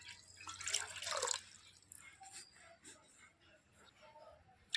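Water is poured from a bowl into a pot, a brief splashing pour at the start followed by quieter drips and small trickles, with faint background noise.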